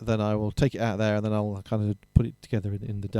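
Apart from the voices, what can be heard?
No everyday noise stands out behind the speech.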